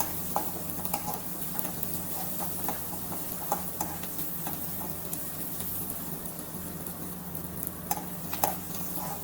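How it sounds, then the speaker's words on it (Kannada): Onions frying in a pan until golden for a village-style okra gojju, giving a steady close sizzle with scattered clicks of stirring throughout and no voices. "ಗೋಲ್ಡನ್ ಕಲರ್ ಬರೋ ತನಕನೂ ಫ್ರೈ ಮಾಡ್ಕೊಳ್ಳೋಣ"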